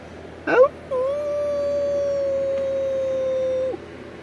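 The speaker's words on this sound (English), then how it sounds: "if you ever hear Coyote's voice way out in the desert at night" A coyote howls in the desert at night, giving one short yelp and then a long, sustained, steady howl that holds for nearly three seconds before breaking off.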